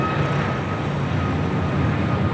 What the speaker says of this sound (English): Airbus A220-300 with Delta